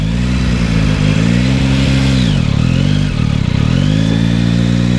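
A cold motorcycle engine runs loud and close, its idle rumble dipping and rising through a couple of uneven revs with some mechanical clatter, and no voices.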